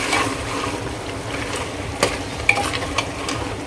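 Chicken being stirred with Agri masala, coriander powder, garam masala and ground coconut paste in a pan, giving a steady scraping stir over a soft sizzle with a few sharp clinks of the spoon, close and alone.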